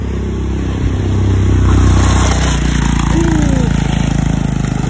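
A motorcycle engine labors up a steep road on a morning walk, a steady loud mid-pitched drone rising in intensity, with rumbling road noise close by.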